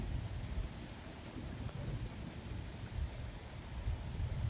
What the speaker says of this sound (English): You know how I can tell? It's thundering.